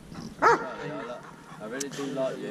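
A dog near the Manchester underground tunnels gives one sharp, loud bark, followed by someone talking nearby.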